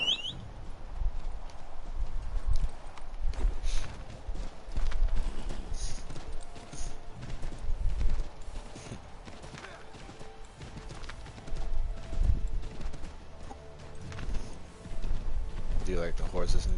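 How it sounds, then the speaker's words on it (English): Steady clip-clop of horse hooves trotting along in Assassin's Creed III Remastered, layered with game ambience and background music, with occasional louder footfalls throughout. "like the horses in this game."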